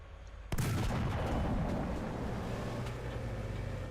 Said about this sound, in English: between the artillery and all the other explosions coming